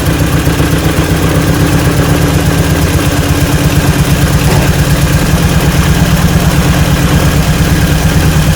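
A loud old Willys jeep engine, a barn find running on old ethanol gas, idling steadily, a low rumbling chug that holds an even rhythm throughout with no voices.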